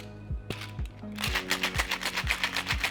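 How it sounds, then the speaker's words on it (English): A cocktail shaker filled with gin, lemon juice and simple syrup is shaken hard, giving a steady rapid rattling and sloshing rhythm that starts after a few soft knocks and continues loud and close to the end. "We're going to give that a hard shake for 10 seconds."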